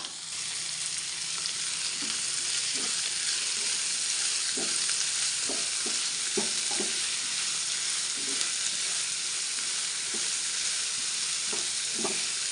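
Onions and green chillies sauté in a hot pan with salt, a steady close sizzle broken by about a dozen sharp scrapes and knocks of a spoon stirring, with no voices.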